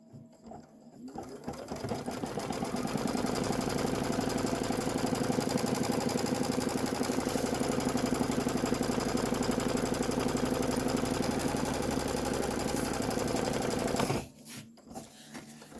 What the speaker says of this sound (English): next you're going to stitch the house and chimney placement line